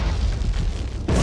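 A grenade blast in the 1999 Medal of Honor shooter, a loud, close boom with a rumbling, roaring body that holds for about a second before the level cuts sharply.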